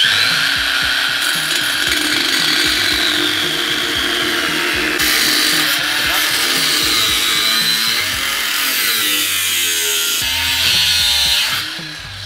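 A power tool grinds and cuts through a 2.5-inch exhaust pipe on an XY GT Falcon, a loud, continuous harsh rasp with slight shifts in pitch over about twelve seconds, easing off at the very end.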